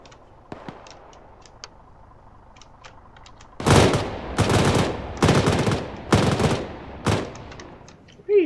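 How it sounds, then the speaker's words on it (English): Gunfire in Operation Flashpoint arrives as several loud, close bursts of automatic fire separated by short pauses, following quieter distant shots, with no talking. "What are you shooting at?"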